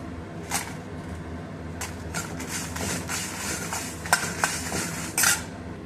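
Fenugreek seeds and dried red chillies dry roasting in a pan for coriander leaf pickle, giving a steady faint rustle broken by scattered clinks and scraping knocks of a spoon against the metal, with a sharper clatter near the end.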